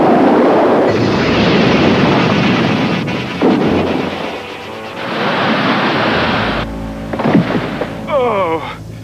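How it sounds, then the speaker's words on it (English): A cartoon sound effect of a torpedo exploding against a lifeboat at sea: a loud roaring blast with surging, wave-like rumble that rises and falls, then tails off into splashing noise. "That explosion cut a gash in the hull."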